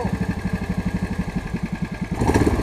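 The engine of an Argo amphibious vehicle runs under throttle in high gear, chugging in a fast, even pulse close by, then rising in pitch and loudness near the end.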